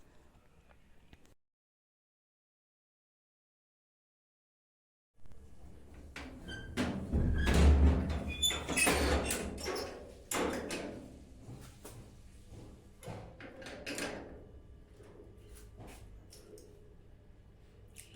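A rooftop door in a house is worked open and shut, giving a cluster of clattering knocks, scrapes and thuds close by after a brief silence, with rattles trailing off.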